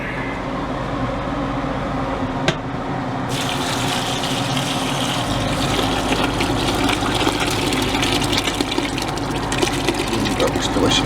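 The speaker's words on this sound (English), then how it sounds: "Add all this into my stock pot." Vegetables and broth pour into a stock pot for soup, a steady running, splashing wash of liquid that continues throughout, with a low rumble underneath.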